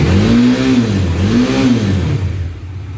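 A Bajaj Dominar motorcycle engine revs up and down twice in a loud, close wave of rising and falling pitch, then settles toward idle; no one speaks.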